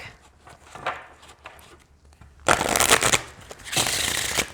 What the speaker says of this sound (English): they shuffle really well